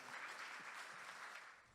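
Church congregation applauding, a brief burst of steady clapping from many hands that tapers off toward the end, heard quietly from a distance.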